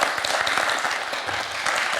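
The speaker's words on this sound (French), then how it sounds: "Très applaudi en plus par tout le monde" A studio audience applauds on a French TV quiz show, a brief burst of dense, steady clapping heard alone at moderate volume.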